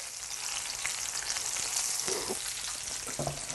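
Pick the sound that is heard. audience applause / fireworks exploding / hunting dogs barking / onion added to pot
onion added to pot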